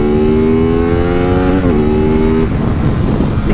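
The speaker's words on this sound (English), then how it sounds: "You can let this bike rev" A motorcycle engine revs loudly and up close, a strong harmonic whine that holds, dips briefly, then breaks into a rough rumble.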